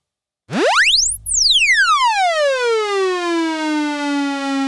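A Eurorack modular synthesizer tone shaped by an ADSR envelope sweeps sharply upward, then glides back down and settles into a sustained buzzy note that slowly fades, loud and alone.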